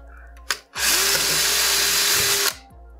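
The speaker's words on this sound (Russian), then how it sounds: "Берем шуруповерт." A cordless drill driver bores a hole for a screw while fitting horizontal blinds; a brief click, then a loud, close, steady two-second whine of the motor that cuts off abruptly, no talking.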